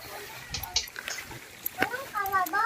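Children jumping into a pool beneath a tall waterfall make scattered small splashes and slaps of water, quiet and a little distant, with people chattering nearby throughout.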